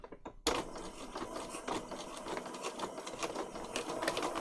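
A sewing machine stitches through a paper patchwork tag, starting abruptly after a brief pause and then running as a fast, steady mechanical whirr with rapid needle clatter, close and fairly quiet, no voices.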